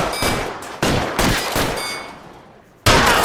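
Gunfire in the video game L.A. Noire: loud, close bursts of automatic fire and sharp single shots with echoing decay, separated by brief pauses.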